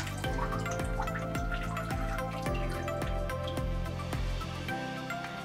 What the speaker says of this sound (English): This one's still dripping after you pull it out.